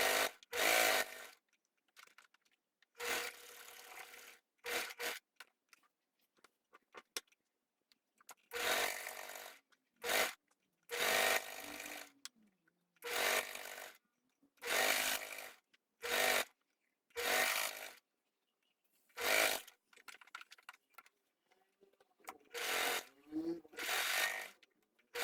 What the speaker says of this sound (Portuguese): Nós vamos passar uma costura de um pezinho de máquina com retrocesso aqui no início, vai vir costurando